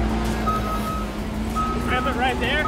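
A tractor's reversing alarm beeps steadily at a moderate distance over engine rumble, and people talk over it in the second half.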